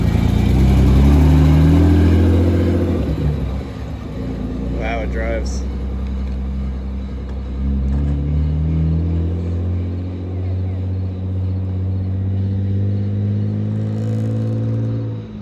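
A BMW E36's engine hums and rumbles steadily at low pitch while driving, with people talking over it throughout.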